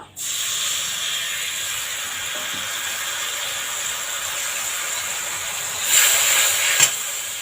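Tamarind juice poured into hot oil seasoned with panch phoron, ginger and green chilli lets out a loud, sustained steamy hiss that swells near the end, with a brief clatter and no talking.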